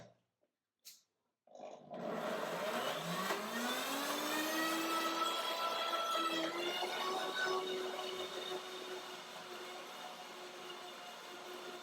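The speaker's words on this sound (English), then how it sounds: "Now I show you the blender dance." A kitchen blender runs loudly and steadily for about ten seconds, its motor pitch rising as it spins up, after a few short clicks and bursts at the start while the unit is switched on.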